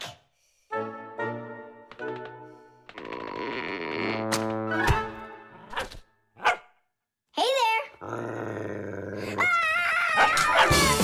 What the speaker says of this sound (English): That's enough with the barking.